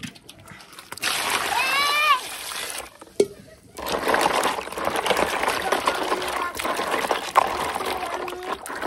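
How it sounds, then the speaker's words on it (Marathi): Live freshwater lake crabs are washed in water, with repeated close splashing, sloshing and dribbling in uneven bursts, and a voice speaking over parts of it. "आपण खेकडे धुवून पहिले वॉश करून घेऊ"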